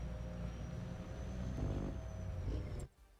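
A truck engine in Farming Simulator 25 drones loudly and steadily, with a faint high whine above it, then cuts off abruptly near the end.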